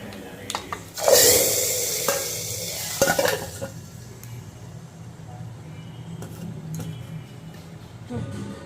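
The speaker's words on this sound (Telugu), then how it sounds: "ఇదిగోండి తాలింపు వేస్తున్నానండి." Hot tempering spices poured into rasam, a sudden loud sizzling burst that fades over about two seconds, followed by clinks of a pot or ladle and quieter kitchen sounds.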